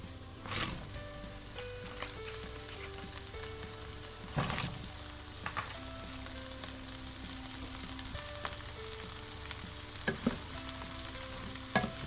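Frozen broccoli sizzling in a pan as it is stirred and mixed, a steady hiss broken by several sharp scraping clatters, with soft musical tones playing quietly in the background.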